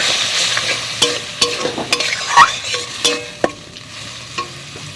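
Onion and cumin spice paste frying in a pan, with soft sizzling under repeated scraping and clinking of a spatula as it is stirred, close and busy throughout.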